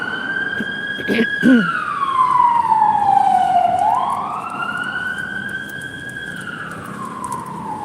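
An ambulance siren sweeps in a long falling then rising wail as it passes nearby, loud over steady road noise, with a short brief rattle early on.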